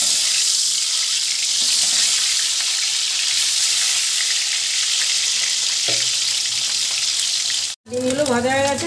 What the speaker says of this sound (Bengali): তেল গরম হয়ে গেছে, ডিমগুলো ভেজে নেব।